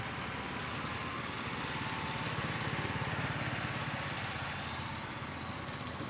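Steady tractor engine running continuously, a Pakistani driver's farm tractor hitched to a trolley, with a constant low rumbling drone at close range and no talk over it.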